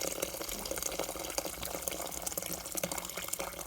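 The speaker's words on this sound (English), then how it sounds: "Now this stock here, we're going to add some more water to it" Water pours into stock inside a Pressure King Pro pressure cooker, a soft, steady splashing trickle that runs unbroken throughout, fairly quiet and with no talking.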